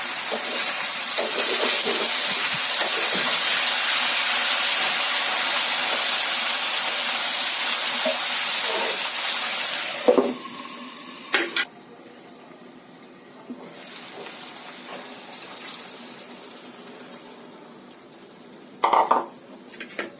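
Pork frying with tomatoes in a pan, a loud steady sizzle and hiss that drops away partway through, followed by quieter clinks and scraping of a utensil against the pan.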